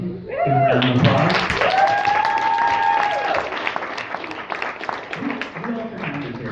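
Audience applause rings out at a business talk, with dense clapping heard under a voice and tonal music or a voice rising over it, staying steady through the clip.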